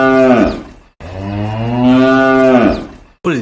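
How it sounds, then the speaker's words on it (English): Cows mooing, loud and close: a long drawn-out moo, then a second longer moo after a brief pause, and the start of a third at the very end, heard alone. "Cows moo."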